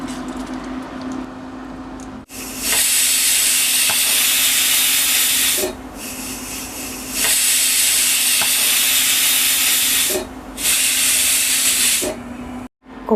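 A pressure cooker holding raw cashew masala curry with half a glass of water vents steam in repeated loud, sustained hissing bursts separated by short pauses, with no talking.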